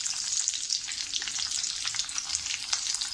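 Cumin seeds, curry leaves and green chillies sizzling in hot oil for fried rice, a steady bright crackle and spitting close up throughout.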